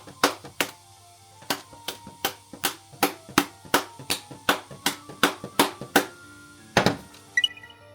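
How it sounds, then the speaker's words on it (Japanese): A mold filled with steamed-cake batter is tapped firmly on a countertop to knock out air bubbles, giving about twenty sharp, close thunks in a steady rhythm that ends in a quick flurry. "生地を流し入れたらトントンして空気を抜きます。"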